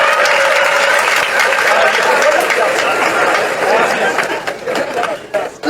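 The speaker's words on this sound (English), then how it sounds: "Please, a better applause for His Royal Majesty." An audience applauding steadily at a university convocation, dense clapping with some crowd murmur, loud and sustained before tapering slightly at the end.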